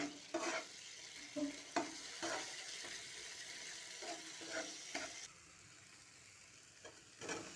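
Tomato, cumin paste, turmeric and chilli powder stir-fried in a pan for a taro dish: a steady sizzle broken by repeated scraping strokes of a spatula, close and moderately loud, with no talking.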